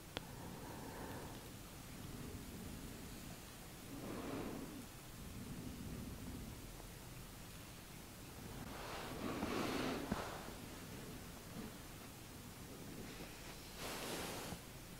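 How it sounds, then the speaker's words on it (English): Steady rain patters on the roof of a bothy, heard from indoors as a soft, continuous wash with gentle swells in intensity, faint and unaccompanied by talk. "I can hear a lot of rain outside on the bothy roof"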